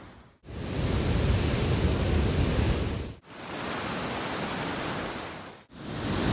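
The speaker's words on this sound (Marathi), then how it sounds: "आणि आता भयानक पाऊस चालू झालाय" Steady heavy rain on the Kalu waterfall trek hisses with a dense, broadband roar, broken by two brief cuts, no voices.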